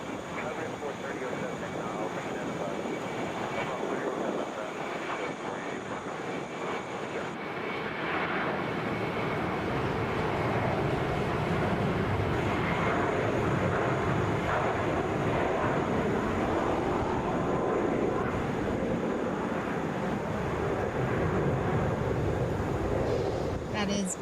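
A Boeing 717 jet, Delta flight 2599, roars steadily at Atlanta airport, heard at a distance as a continuous rumble across the whole stretch with a slight swell midway, while a voice talks over it.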